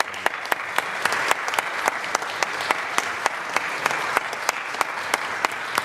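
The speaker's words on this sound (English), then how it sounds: "Let's give them a round of applause." Applause from the audience at a Lynn city council meeting, steady clapping filling the room with a few sharper individual claps standing out throughout.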